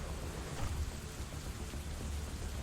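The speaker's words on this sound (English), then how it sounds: "It's making rain sounds, and rain music is currently playing" Steady rain hisses and patters in the Terraria video game, a soft continuous wash of falling drops at low level with no one talking.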